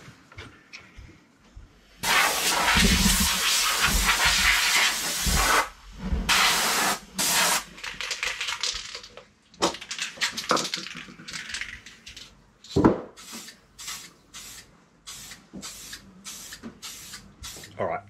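A spray can or spray gun lays a heavy coat of paint on Yamaha E40X outboard parts in a workshop, with several long hissing bursts followed by a string of short, sharp puffs.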